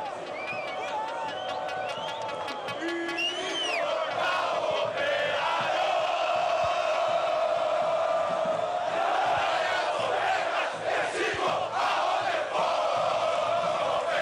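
A crowd at a Brazilian Série B football match between Operário-PR and Botafogo-SP in the video game EA FC roars and chants steadily throughout, with swelling shouts and whistles, while a commentator talks over it.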